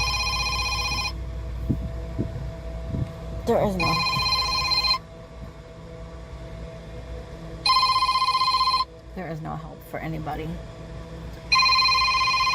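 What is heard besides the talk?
phone ringing with an incoming call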